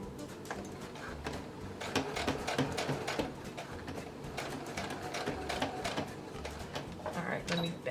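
A sewing machine stitches a zipper seam on a circle skirt, with rapid mechanical clatter close by, mixed with rustling and a low hum, while a person talks over it.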